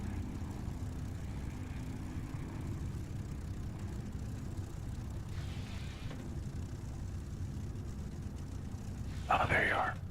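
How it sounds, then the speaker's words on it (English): Propeller aircraft engines pass overhead in a flight simulator game, a steady low droning rumble that holds throughout, with a brief brighter burst near the end. "Those engines going over the top of me like that. That just sounds really nice."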